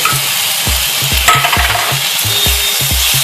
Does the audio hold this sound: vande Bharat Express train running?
no